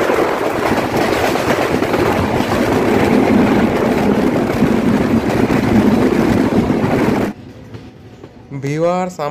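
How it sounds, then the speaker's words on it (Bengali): Bangladesh Railway's Rupsha Express, hauled by an American 6632-class locomotive, runs at speed with a loud, continuous rumble and rattle of wagons for about seven seconds, then the noise drops sharply and a voice speaks. "ট্রেনটিতে সেদিন যুক্ত ছিল আমেরিকান 66-32 লোকোমোটিভ, যার দরুন কিন্তু ট্রেনটি খুব দ্রুত স্পিড আপ করে ফেলতে সক্ষম হচ্ছিল"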